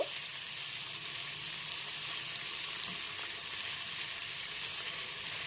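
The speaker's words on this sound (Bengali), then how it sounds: "গ্যাসের ফ্লেমটা মিডিয়ামে রেখে পেঁয়াজ কুচিটা ভেজে নেব একটু হালকা করেই ভেজে নেব" Chopped onions fry in oil on a medium gas flame, a steady, close, even sizzle that continues without break or voices.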